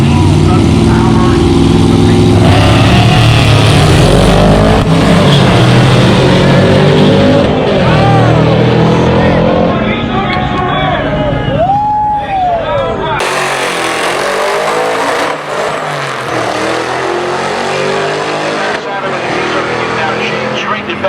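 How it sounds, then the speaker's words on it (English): A twin-turbocharged LS-series Chevrolet engine in a drag-racing T-Bucket roars loudly. Its revs rise and fall sharply, with a rising whistle and a sudden cut as it launches, under continuous commentary from an announcer. "This T-Bucket powered by an LS series Chevrolet engine with twin turbochargers."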